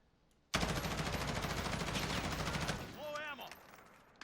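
An M4 assault rifle in Warzone fires a sustained full-auto burst, loud and close, a dense rapid stream of shots for about two seconds, then a ringing tail with faint chirping tones.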